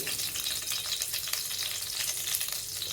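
Mustard seeds frying in hot oil for tempering, a close, steady crackling sizzle with dense tiny pops running continuously and no speech.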